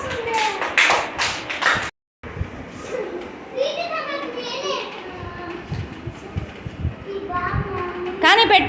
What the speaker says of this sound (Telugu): okay, good, claps